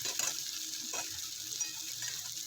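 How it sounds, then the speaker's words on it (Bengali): Eggplant and egg frying in a pan with a steady soft sizzle, stirred now and then with faint scraping strokes, heard close and fairly quiet with no voices. "এইভাবে মোটামুটি কিছুক্ষণ পরে পরে আমি নাড়িয়ে নেব, যতক্ষণ না বেগুনটা একদম শুকনো শুকনো হয়ে যাচ্ছে"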